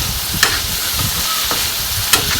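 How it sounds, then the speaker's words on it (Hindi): Chicken pieces frying in oil in a pan, a steady close sizzle with a few sharp clicks or stirring knocks around it, no talking. "तो चिकन थोड़ा थोड़ा फ्राई हो रहा है।"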